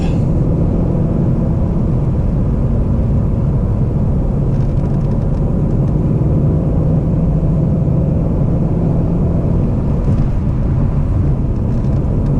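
BMW E39 Alpina B10 V8 on a highway, heard from inside the cabin as a loud continuous low engine drone and road rumble while it downshifts to fourth, with no sharp rev change standing out and no talk.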